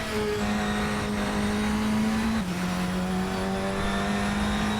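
Radical SR10 XXR8 race car engine in Assetto Corsa, a loud, steady high-revving whine with one shift partway through and the pitch settling again, close with no talking.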